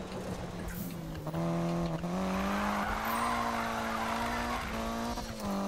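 A Mitsubishi Evo 9 in the Need for Speed 2015 racing game drifts with its engine droning and shifting pitch while tires squeal steadily, loud and continuous with no talking.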